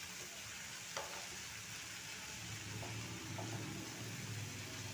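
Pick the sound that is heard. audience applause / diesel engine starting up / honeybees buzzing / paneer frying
paneer frying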